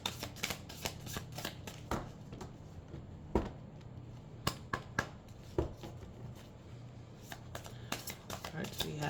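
Oracle cards being shuffled by hand, a run of close, crisp riffling flicks and slaps in an irregular rhythm, moderately quiet, with soft speech now and then.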